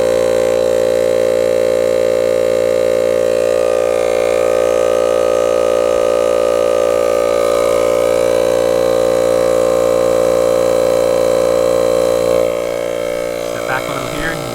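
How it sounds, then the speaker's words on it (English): A Goodyear i8000 air compressor pump runs with a loud, steady droning whine that holds constant for several seconds, then drops away near the end. "Let's turn on the pump, see how long it takes."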